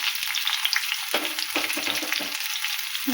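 Ridge gourd and green chilies frying in oil in a home kitchen pan, a steady close sizzle with occasional stirring scrapes and bursts of crackle throughout.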